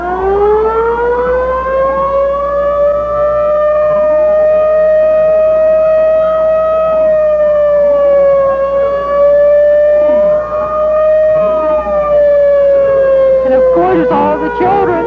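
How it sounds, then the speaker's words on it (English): Volunteer fire department trucks from Lockeport pass in a 1988 parade with sirens wailing loudly and continuously, overlapping rising and falling tones sweeping up and down close by for the whole stretch. "All the children, or most of them, love to hear those sirens."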